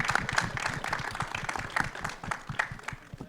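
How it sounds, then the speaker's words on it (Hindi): An audience at a trailer launch event for Heer Express claps in lively scattered applause, dense and continuous with a few sharper cheers or whistles standing out over the crowd. "जोरदार तालियां बजाओ, थोड़ी और बजाओ, बजाते रहो।"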